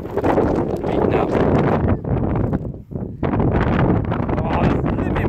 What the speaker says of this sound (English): Oh, it's a blimmin' wind.